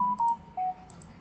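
Two short telephone keypad tones sound while a phone is being muted, each beep steady and clear in a quiet room, with faint clicks around them.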